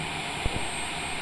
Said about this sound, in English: Taxiing to general aviation parking using taxiway Cessna 7 Bravo Charlie.